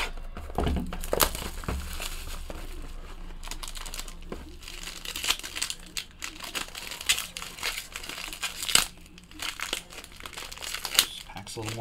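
Someone opens a Topps Tier One baseball card box from 2018, and the packaging crinkles and crumples up close. Sharp tearing bursts and small thunks come in uneven clusters.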